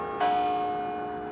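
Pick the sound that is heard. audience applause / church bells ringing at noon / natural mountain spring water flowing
church bells ringing at noon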